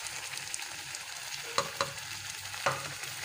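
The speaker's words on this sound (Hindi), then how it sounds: "अब गोश्त को अच्छे तरीके से हम भूनेंगे" Meat for chicken korma fries in masala with a quiet, steady sizzle, broken by scraping stirs and a few sharp knocks of the spoon on the pan near the end.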